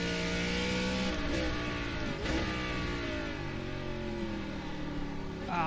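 Race car engine of an ARCA stock car at Oulton Park in the iRacing simulator, a loud steady drone with pitch swings as the revs drop and climb through corners, heard alone.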